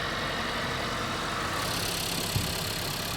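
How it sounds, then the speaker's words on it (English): Turbo V8 race car engine idling nearby, a loud dense steady rumble with constant roar and no rev changes, filling the whole stretch. "Dude, I can't hear you over this race car."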